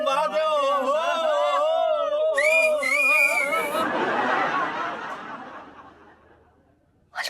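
Several people whistle from out in the street, bright warbling tones rising and falling for a few seconds, followed by a wash of crowd noise and chatter that fades away.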